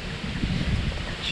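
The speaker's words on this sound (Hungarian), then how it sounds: "látjátok a szél erejét, lobogám a zászló" Strong seaside wind at a small chapel among trees near Stavros, Greece, a steady rushing roar with gusty buffeting across the microphone, a flag flapping somewhere in the blow.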